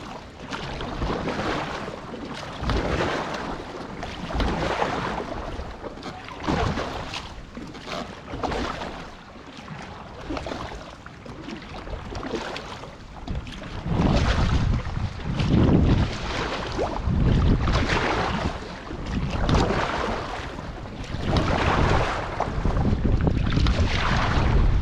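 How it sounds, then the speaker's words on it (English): Steady wind buffets the microphone while a raft is paddled across a lake on a windy day, a loud rushing roar that swells and fades in gusts, with no talk. "we got some wind at our back"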